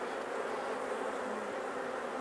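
Honey bees hum steadily and close at an open hive during an apiary inspection, as a box is being set back in place; the buzzing is continuous and dense with no voices.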